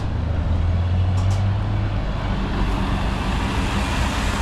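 Trucks and passing traffic in an Australian country town, a continuous loud low rumble of engines and road noise with a deep droning tone early on.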